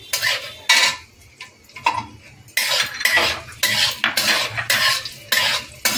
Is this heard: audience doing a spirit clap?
no